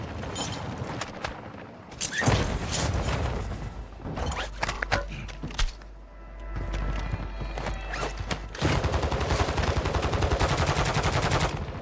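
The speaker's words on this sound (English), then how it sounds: "Bro, what are you shooting at?" Gunfire in Call of Duty Warzone 2.0 during a match at Vondel, bursts of shots and rattling fire between quieter gaps, mixed with game effects and movement sounds.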